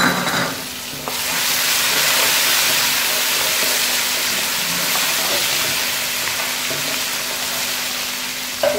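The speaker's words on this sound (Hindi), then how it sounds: "ये तमाम डालकर इसे थोड़ी देर के लिए हमने मज़ीद फ्राई करना है" Chana daal with curry leaves and whole spices frying in a pan makes a loud, continuous hiss and sizzle that holds steady throughout, with faint stirring beneath.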